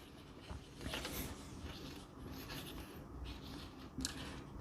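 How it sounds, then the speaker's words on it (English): Pen writing by hand on paper during a science lesson, soft scratchy strokes in uneven bursts, faint and close, with no talk. "again I am just writing"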